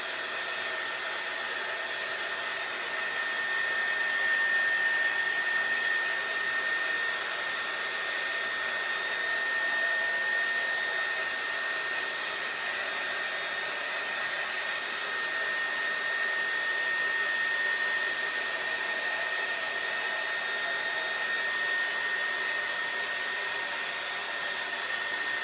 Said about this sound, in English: this is my Magnolia Design Company heating device